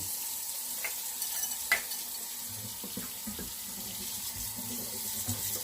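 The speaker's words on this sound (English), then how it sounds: "I'm just putting the plug in the sink and I'm letting that soak for 3 to 4 minutes" Cold tap water pours steadily into a sink, with a few light clinks of dishes over the constant splashing.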